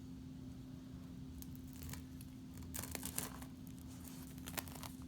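A knife cuts into a crusty focaccia-dough skillet pizza, giving soft crackling and tearing crunches that come in a few short bursts over a low steady hum.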